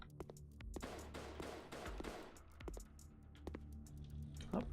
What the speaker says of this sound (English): Oh, I have a machine gun too.